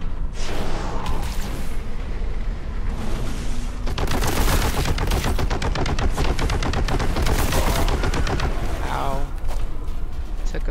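Rapid bursts of bolter gunfire in the video game Warhammer 40,000: Boltgun crackle over a dense, noisy background, with rattling volleys and occasional booms, loud and continuous.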